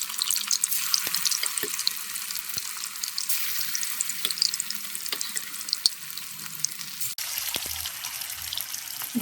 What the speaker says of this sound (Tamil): அதுக்கு எடுத்து சிக்கனை ஆயிலில் போடுறேன் ஆயில் நல்லா சூடாக இருக்கணும்